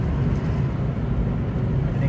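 A 2008 Honda Civic on a test drive after a transmission service, a steady low engine and road rumble heard from inside the cabin, with a voice talking over it.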